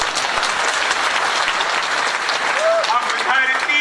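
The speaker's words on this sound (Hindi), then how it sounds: "आप लोग एक बार तालियां बजाइए" Audience clapping at a Hindi comic poetry recital (kavi sammelan), a sustained round of applause from the crowd under a loud, reverberant hall sound.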